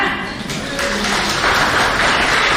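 Guests at a Marathi baby shower celebration break into clapping, a dense loud wash of many hands that swells slightly toward the end, with faint voices mixed in.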